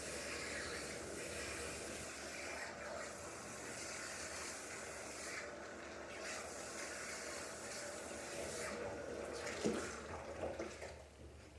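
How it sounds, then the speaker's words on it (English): Water running steadily over hair to rinse out shampoo, a continuous close broadband hiss and splash that holds even for the whole stretch and swells slightly near the end. "You're going to make sure you thoroughly rinse all of the shampoo out of the hair."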